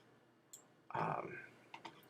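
A few sharp, faint computer mouse clicks come from a desk during a Corona SDK software tutorial, scattered across the moment with a brief burst of a voice in the middle.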